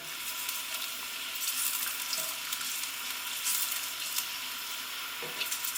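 Onions fry in a generous glug of olive oil, a steady bright hiss of fine crackling at moderate level with a few soft knocks, close and without talk.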